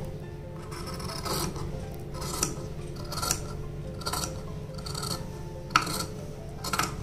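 Scissors cut suit fabric apart half an inch outside a line of stitching, giving a steady series of close, rasping snips roughly once a second over a faint background hum.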